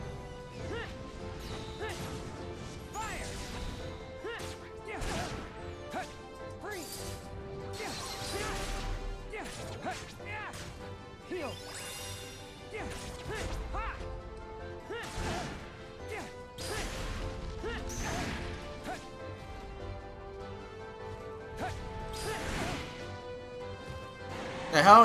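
An enemy smashing the player into the ground in the video game Kingdom Hearts, a string of sharp crashing impacts and whooshes over game music, with a heavier hit right at the end.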